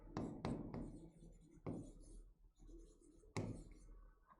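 Chalk or marker strokes on a classroom board during a Class 8 lesson, a series of scratchy taps and scrapes close by, with quiet pauses between strokes.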